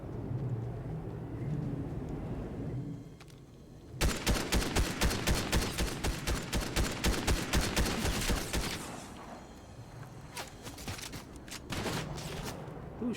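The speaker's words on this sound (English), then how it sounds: "Who's shooting at me?" Rapid automatic gunfire in the video game Fortnite erupts in a dense, loud burst of evenly spaced shots after a quieter stretch, then fades to a few scattered shots.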